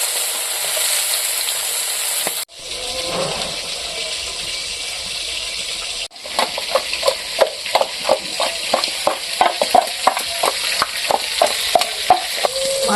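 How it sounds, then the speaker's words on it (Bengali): Pieces of a large pangas fish frying in hot oil in a pan for a village-style curry, an even sizzle that cuts out briefly and then returns with loud, rhythmic crackling pops close by. "মাছগুলো ভাজা হয়ে গেছে, এখন আমি কড়া কড়া করে ভাজে নিয়েছি, এখন তুলে নেব।"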